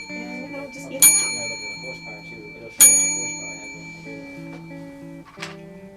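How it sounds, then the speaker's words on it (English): A bell struck twice for a moment of silence in memory of a departed colleague, each clear ring decaying slowly against a quiet room with faint background murmur and a softer tap near the end. "5 seconds of silence in the memory of Flo, and by using the bell"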